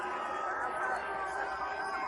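A large crowd at the NASCAR race at Daytona roars steadily from a distance, a dense, even wash of cheering and babble held at moderate level throughout.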